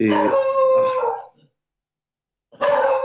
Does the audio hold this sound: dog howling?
yes